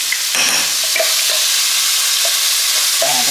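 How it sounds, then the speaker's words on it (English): Onions and minced garlic sizzle steadily in a hot pan, a loud, close hiss with a few light scrapes of stirring running through it. "The onions are going in. We're going to put some minced garlic."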